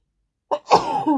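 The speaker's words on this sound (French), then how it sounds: "Je ne sais pas éternuer comme une fille." A single sharp sneeze bursts out after a moment of silence, followed immediately by a voice speaking.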